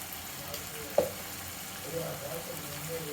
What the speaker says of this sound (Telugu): అదంతా దీంట్లో కలేసుకొని ఇలా బాగా ఎర్రగా అయ్యేంత వరకు వేయించుకోవాలి